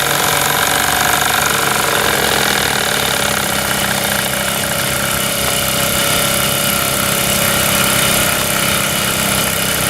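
A model steam engine fitted with a throttle valve runs steadily, giving a loud, continuous mechanical hiss and chuff that stays constant throughout, with no talking.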